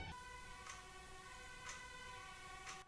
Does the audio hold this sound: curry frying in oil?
no